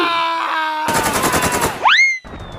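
Cartoon gunfire aimed at the characters, a rapid burst of loud machine-gun shots after a sustained tonal drone, ending in a rising whistle-like sweep and a sudden cutoff.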